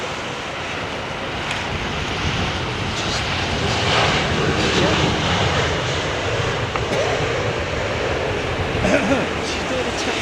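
A jet airliner taxiing in wet weather at London Heathrow Airport, a steady broad engine roar with wind and rain-like hiss throughout, while people talk nearby.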